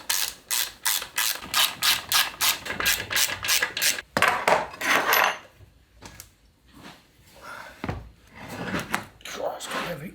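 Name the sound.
ratchet tightening bolts on Land Rover Series gearbox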